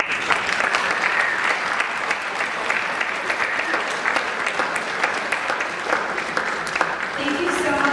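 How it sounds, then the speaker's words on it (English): An audience applauds city council members at a Guyana Independence Day celebration, with dense, sustained clapping from a large crowd and a few voices mixed in, loud and continuous. "Can they please stand so that we can give them a huge round of applause?"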